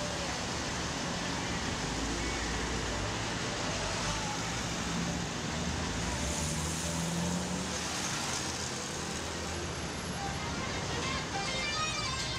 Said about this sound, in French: Ce n'est qu'à Beyrouth que j'entends de vieilles voitures américaines gronder sur le béton